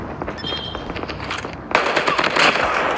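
Gunfire in the Call of Duty video game, with rapid automatic bursts that grow louder and denser partway through.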